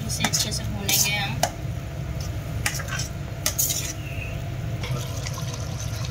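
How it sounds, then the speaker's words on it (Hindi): Sarson ka saag stirred and roasted in a pan, with a spoon clinking and scraping against the metal in short bursts over a steady low cooking hum, heard close. "इसे अच्छे से भूनेंगे हम"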